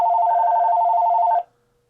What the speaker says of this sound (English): you will receive a call, let's say on handset number 2